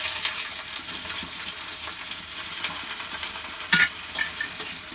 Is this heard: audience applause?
no